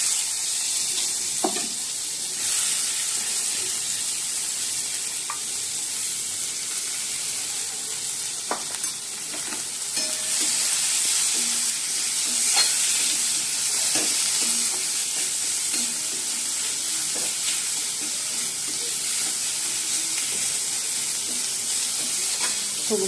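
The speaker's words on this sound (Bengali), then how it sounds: "চলো এবার পেঁয়াজগুলো দিয়ে দিই।" Onions frying in a pan, a steady close sizzle and hiss that runs throughout, with occasional scraping stirs and clicks on top.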